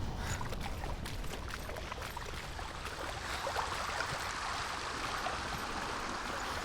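Steady rushing water from a waterfall in Hellblade: Senua's Sacrifice, a continuous broadband roar at constant loudness with no speech over it.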